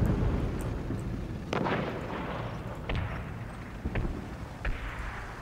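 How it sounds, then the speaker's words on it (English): Incoming artillery fire in the WWII strategy game Combat Mission Final Blitzkrieg, with several heavy booming impacts spaced a second or so apart over a rumbling battlefield background. "Oh, incoming fire on there,"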